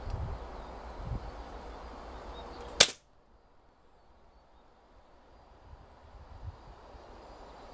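A single sharp, loud crack from a Beeman 1357 air pistol firing a wasp pellet, preceded by low rumbling background noise and followed by near silence.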